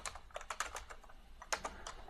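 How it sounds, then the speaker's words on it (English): Quiet, quick keystrokes on a computer keyboard tap out a short command in two small bursts with a brief pause between, soft and close. "if I type in ipconfig"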